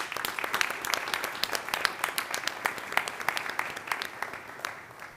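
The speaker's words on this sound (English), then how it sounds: "Just going to do another round of applause." A round of applause at a board of directors meeting, steady moderate clapping from a modest group sustained evenly throughout, with no talk over it.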